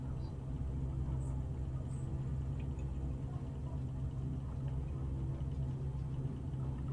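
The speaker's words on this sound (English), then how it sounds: "And I am idling, and I'm still picking up speed." Gee Bee R3 Special racing plane idling on the ground in Microsoft Flight Simulator 2020, a steady low engine rumble droning evenly throughout, close and continuous.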